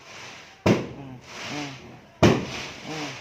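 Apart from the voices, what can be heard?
fireworks and firecrackers going off on New Year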